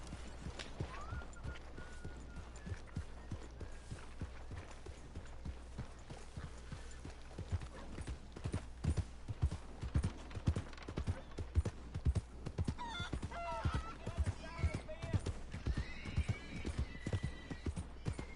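Horse hooves clip-clopping in a steady galloping rhythm in Red Dead Redemption 2, with occasional whinnies and game sounds layered over the continuous hoofbeats.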